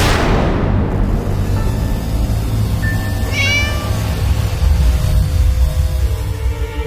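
A cat shut in a closed room of an empty house gives a single drawn-out meow that rises and falls, heard alone over a steady low background rumble.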